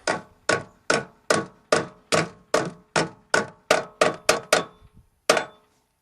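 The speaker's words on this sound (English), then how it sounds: "just tap it evenly with a hammer" A hammer taps a door pin bushing into the door of a 1988 Chevy, about a dozen sharp metallic strikes in a steady, even rhythm, close and fairly loud, ending with a short pause and one last hit.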